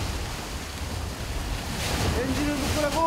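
Rough surf breaks against an island shore where a villager's boat has been swamped, a steady broadband wash of waves and wind rumble with faint voices near the end.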